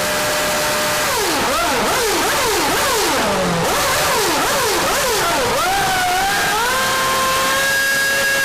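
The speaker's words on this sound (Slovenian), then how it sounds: "njihov bolid z motorjem atmosferskim V8 prostornina," A Renault Formula 1 car's naturally aspirated 2.4 litre V8 engine screams loudly and continuously, its pitch sweeping up and down through repeated rapid revs before settling into a high steady wail.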